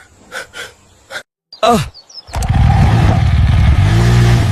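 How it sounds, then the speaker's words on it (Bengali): After a few short thumps and a brief vocal sound, a motorbike engine starts and revs loudly, close and steady. "বাইক চালাতে কি মজা!"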